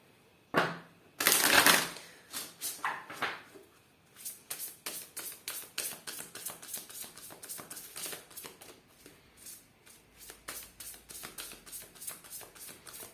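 A deck of tarot or oracle cards being shuffled for a card-reading draw, a loud riffle at first, then a long run of quick, even card flicks, close and alone.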